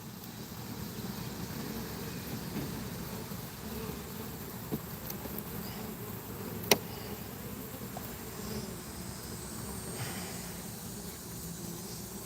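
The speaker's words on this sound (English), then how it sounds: "there's bees going inside for sure." Bees buzzing as they fly in and out of an opening, a continuous soft drone with occasional nearer passes, no speech.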